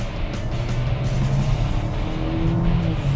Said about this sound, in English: let's try and accelerate just a little bit, and see how fast this machine can take us